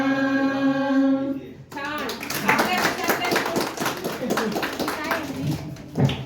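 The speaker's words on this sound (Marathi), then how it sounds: "जवानांसाठी टाळ्या होऊ द्या" A crowd bursts into dense, sustained applause for soldiers at a patriotic gathering, rising right after a held sung or musical tone cuts off and continuing loud and close, with voices mixed in.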